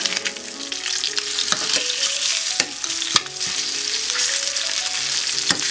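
Pork chops of normal thickness crackle loudly in a pan over medium heat, a dense, continuous sizzle broken by a few sharp clinks and scrapes as the chops are turned over.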